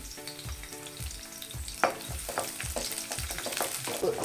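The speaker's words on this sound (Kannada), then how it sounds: "ಎಣ್ಣೆ ಬಿಸಿ ಆಗಿದೆಯಾ ಅಂತ ನೋಡಿಕೊಂಡು ಮೊದಲಿಗೆ ಬೆಳ್ಳುಳ್ಳಿ ಹಾಕ್ಕೊಳ್ತೀನಿ" Finely chopped thick country garlic sizzles in hot oil in a pan at the start of a mushroom fried rice, a steady close frying hiss broken by rhythmic bursts of stirring, with no talk.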